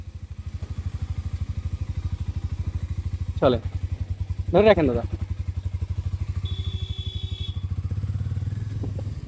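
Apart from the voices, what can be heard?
Harley-Davidson X440 motorcycle riding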